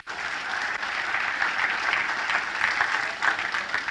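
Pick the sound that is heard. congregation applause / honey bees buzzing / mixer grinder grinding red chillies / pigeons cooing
congregation applause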